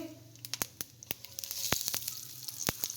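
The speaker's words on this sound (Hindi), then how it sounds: "हल्का सा हम इसको भूनने देंगे।" Cumin seeds roasting in a pan as a pale Aloo Bhujiya base, a steady close sizzle punctuated by sharp pops and crackles, growing busier toward the end, with no talk.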